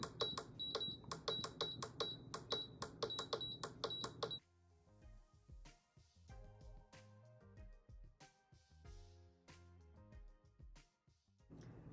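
A tumbler heat press sounds a rapid run of electronic beeps as its time setting is stepped up to 240 seconds, dense and regular at first, then thinning into scattered beeps and clicks.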